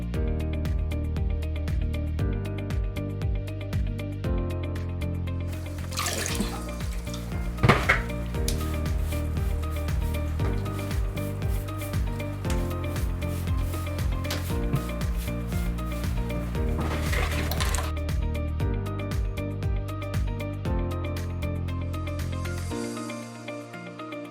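Wrung-out sponge wiping grout off backsplash tiles, a steady close scrubbing rub that continues throughout, with a few sharper swipes and a steady tonal background underneath.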